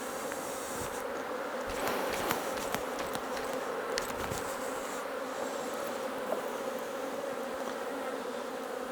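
Honey bees buzz in a dense, continuous hum as frames are shaken out of a healthy colony during an August shook swarm. Scattered knocks and rustles sit under the steady buzz, fairly faint, with no talking.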